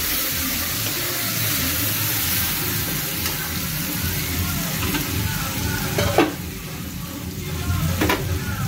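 Lemon-marinated chicken frying in a pan, a steady loud sizzle with stirring and a couple of sharp scrapes of the utensil near the end, with no voices.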